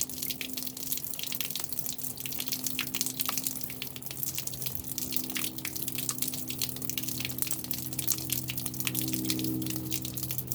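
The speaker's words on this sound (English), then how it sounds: "I'm running all this through. My finished sluice again." Water runs continuously through a homemade gold sluice carrying gravel, making a steady rushing wash with a low pump hum beneath, close and alone.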